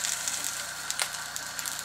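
Waffle batter sizzles inside an antique waffle maker, a steady soft hiss with faint crackles running evenly throughout, close and alone with no talk.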